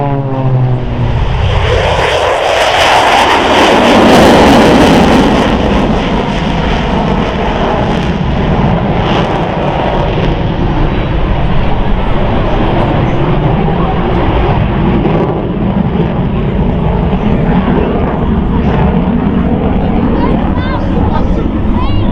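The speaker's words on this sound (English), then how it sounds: "Super Hornet halfway through." A Super Hornet jet roars past at the Farnborough Airshow, a loud broad rush that swells and then holds as a sustained distant rumble, with an announcer talking over it.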